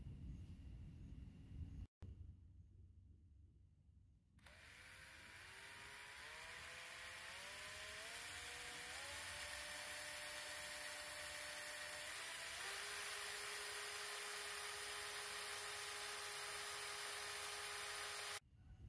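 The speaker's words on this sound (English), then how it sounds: "hopefully, that little Black & Decker drill can handle the job" A small Black & Decker power drill whines and grinds steadily at close range, boring into metal, its pitch stepping upward as it bites in, loud and continuous after a short quiet start.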